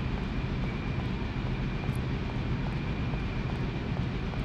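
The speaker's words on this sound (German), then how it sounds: "Also man hört ja im Hintergrund dieses ständige Surren." A steady low mechanical whirring drones on in the background of a Syberia game scene, constant and fairly quiet, with a faint high tone over it and no speech.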